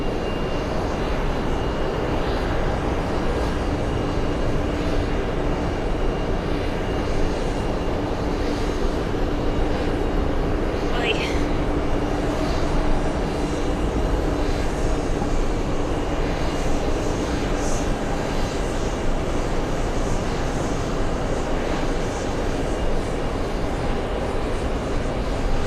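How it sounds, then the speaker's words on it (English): Boeing 747 airliner at JFK airport, a steady broadband jet engine roar running continuously at moderate distance, with no talk over it. "I'm excited to see this big fancy 747."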